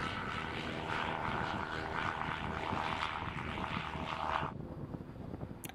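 Virus short-wing light propeller plane in flight through gusty 35 to 40 knot winds, a loud steady engine and propeller drone mixed with wind rush that drops away abruptly near the end.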